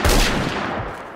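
A Remington fires one loud, close blast in the Roblox shooter Phantom Forces, followed by a quickly fading rumbling tail, with no voices.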